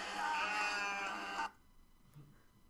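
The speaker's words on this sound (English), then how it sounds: "And then I'll throw in another sheep." A single loud, drawn-out sheep bleat lasting about a second and a half, then it cuts off to near silence.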